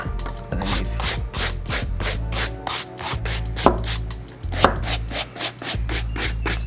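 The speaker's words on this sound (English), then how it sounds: "I'm gonna take the medium bristle brush out, and we're just gonna dry brush some of that dirt off" A medium bristle brush dry-scrubbing dust and dirt off Nike Air Monarch sneakers, giving a steady run of quick, close, rhythmic scratchy strokes with no talking.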